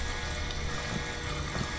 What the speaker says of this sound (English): I need to shut off this faucet, it's annoying me.